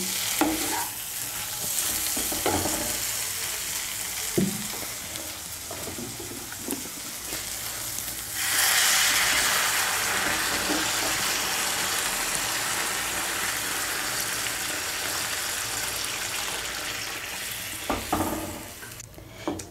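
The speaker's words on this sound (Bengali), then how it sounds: "আমি এর মধ্যে 2 কাপ গরম জল দিচ্ছি।" A bean and potato curry sizzles and is stirred with a few clinks, then two cups of hot water are poured in, setting off a louder, sustained rushing hiss that settles toward the end.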